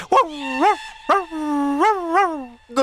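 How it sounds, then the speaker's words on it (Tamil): A dog gives a quick series of bright, yelping barks and whines, about five or six sharp calls in close succession, loud and near with brief gaps between them. "நாய் நாய்"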